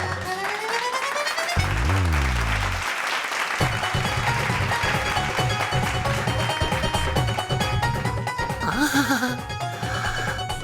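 Applause from an audience fills a scene in a children's superhero TV series, loud sustained clapping running throughout, with brief musical tones and sound effects layered over it.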